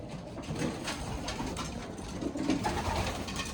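Pigeons in a loft give soft, low cooing calls over a muffled room bed, quiet and fairly close, with a few throaty coos overlapping through the short stretch.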